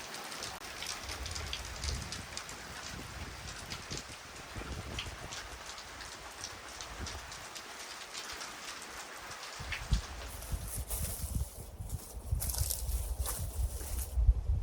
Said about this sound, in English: Just as I finished building the fence up front, the rains came.